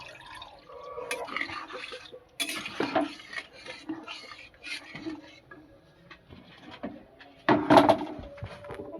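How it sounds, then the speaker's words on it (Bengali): Water splashes into a cooking pan while making a Bengali banana-flower curry, irregular pouring and clattering bursts with a louder splash near the end, quiet and close without talk. "এবার জল দিয়ে দেব।"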